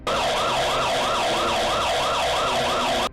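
A siren wails in quick, rising-and-falling sweeps, repeating steadily and loud throughout with no voices.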